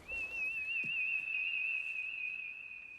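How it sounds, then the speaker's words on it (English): A single clear, sustained whistled tone holds nearly steady with a slight wavering, fairly faint against quiet background. "Wish I can whistle like that."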